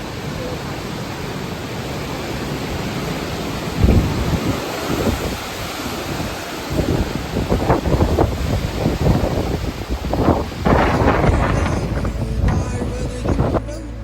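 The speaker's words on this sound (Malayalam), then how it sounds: "കാറ്റടിക്കുന്ന സൗണ്ട് കേൾക്കുമ്പോൾ നിങ്ങൾക്ക് മനസ്സിലാവും ഹെവി വിൻഡിങ്" Heavy wind roars on a hilltop campsite at Chokramudi in the Kerala highlands, reached by Himalayan motorcycle; strong gusts buffet close to the microphone, swelling in surges over a constant rushing background, with no one speaking.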